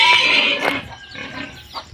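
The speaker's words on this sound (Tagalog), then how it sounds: "ang ingay ng dalawang baboy" Two farm pigs in Bohol, Philippines, grunt and squeal in short irregular bursts, fairly close and loud at first and then quieter, with some farmyard background noise.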